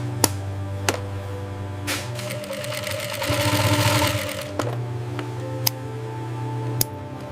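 Industrial sewing machine stitching the shoulder seam of a snake-leather jacket, a steady mechanical hum with a louder stitching whir in the middle, while sharp clicks and ticks sound at intervals.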